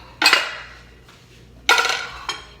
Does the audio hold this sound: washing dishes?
yes